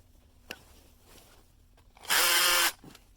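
A power drill whirs loudly for about half a second while enlarging an M10 bolt hole in a cable pivot on a wind turbine build, with a sharp click before it and a quiet background.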